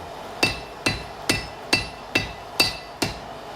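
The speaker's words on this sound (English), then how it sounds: "what we're going to do is hammer and roll" A blacksmith hammering hot iron while forging a nail, seven sharp metallic strikes in a steady rhythm about half a second apart, close and ringing briefly after each blow.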